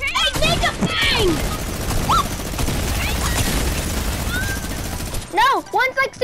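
Sustained minigun fire in a video game arena shooter, a dense continuous roar lasting about five seconds with excited voices talking over it before and after.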